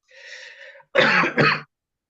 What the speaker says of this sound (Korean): 기침이 멈추지를 않아요